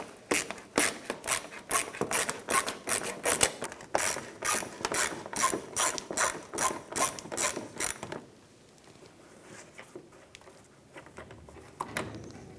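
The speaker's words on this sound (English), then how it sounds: "Using a 7mm socket, I'm going to start by removing these two screws right here" A ratchet with a 7mm socket backs out screws from a fender liner on a 2006-2013 Chevrolet Impala, giving rapid, evenly spaced clicking for about eight seconds, close and clear, before it stops and only quiet rustling remains.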